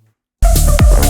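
A reference music track for comparison with a Syntakt production starts abruptly after a brief silence, a full loud mix with steady bass, sustained tones and a sweeping accent.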